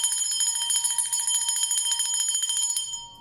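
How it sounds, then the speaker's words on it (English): Bell rung in a sound-cleansing ritual, a bright ringing tone struck in rapid repeated strokes, close and loud, sustaining and then fading out at the end. "I'm gonna play the bell, ring the bell to ground that energy and dissipate any dark forces"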